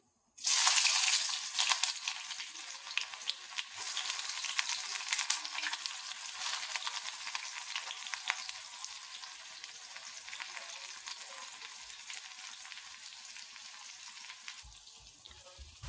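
Black cumin seeds and chopped onion hit hot oil for a fish recipe, setting off a loud crackling sizzle that starts abruptly and then settles into a steady, bright frying hiss with scattered pops, fading slightly near the end.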